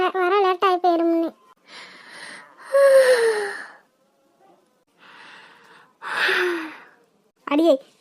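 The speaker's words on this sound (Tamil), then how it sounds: "அடியே, கொட்டாய் விடாம உட்காருடி." A child yawns in an animated Tamil cartoon, with drawn-out breathy sighs and gasps between short bursts of voiced sound, close and fairly loud.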